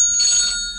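A phone rings with a bright electronic trill, one short burst of tonal ringing that fades quickly, close and fairly loud with no talking.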